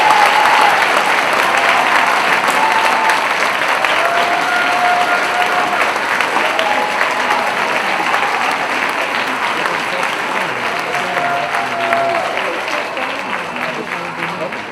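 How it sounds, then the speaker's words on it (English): Sustained applause from a large convocation audience in a school gathering hall, dense steady clapping that holds for the whole stretch and fades slightly at the end, with a few faint voices mixed in. "to a little larger round of applause."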